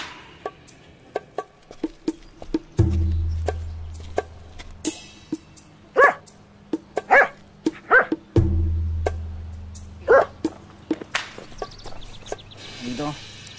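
A dog barks in short, sharp bursts scattered across a domestic scene, with low rumbling noise and other household sounds between the barks.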